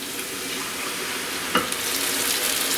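Diluted tomato is poured into cabbage frying with carrot and onion, setting off a loud, steady sizzle with a brief splash and stir near the middle, close by and without talk.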